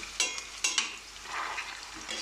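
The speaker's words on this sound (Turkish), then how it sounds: "patateslerimizi kızartalım." Potatoes frying in a pan with bursts of crackling sizzle and a few sharp stirring scrapes, fairly close, no talking.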